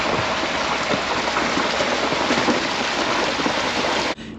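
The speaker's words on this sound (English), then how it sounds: "We have just been getting dumped on with rain here for the last week" Heavy rain pouring steadily onto a pasture, a dense continuous hiss with scattered louder drops, close and unbroken until it cuts off at the very end.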